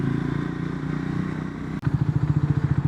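A Triumph Scrambler 400 XC's engine runs steadily nearby, then after a short break settles into a louder, rhythmic pulsing beat; no one talks.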